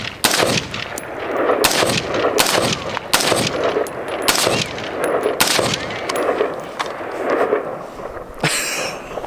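Rapid gunshots from a new gun fired at a bush outdoors ring out loud and close, about a dozen sharp cracks in quick irregular succession with brief echoing tails, with no talking between them.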